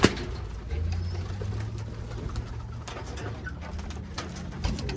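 Birmingham Roller pigeons cooing in a loft as they are driven out of the kit box, with soft low coos and shuffling movement under steady background noise, and no voices.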